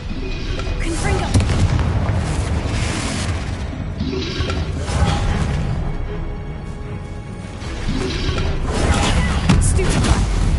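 Confringo blasting-spell explosions in a Harry Potter video game, loud booming blasts repeating amid continuous combat noise, with a voice calling out spells over the din.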